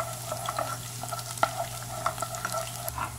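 Chopped leeks sautéing lightly in hot olive oil in a pot, a soft, steady sizzle broken by gentle scrapes and clicks of stirring, quiet and close.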